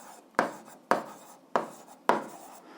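Pen or marker strokes while writing out an algebra exercise solution, four short sharp scratchy marks spaced evenly about half a second apart, close and clear against a quiet background.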